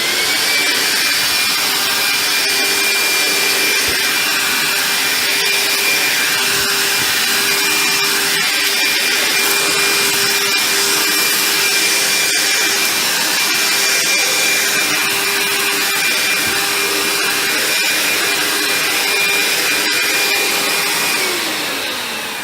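A Dyson DC24 vacuum cleaner runs at maximum power on its hard floor setting, a loud, steady whining roar close by that holds for about twenty seconds before easing off.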